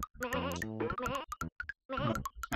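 Several wavering sheep bleats from the video game Bubsy 2, loud and close, in quick succession with short gaps between them, no talking.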